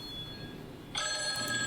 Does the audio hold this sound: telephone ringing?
yes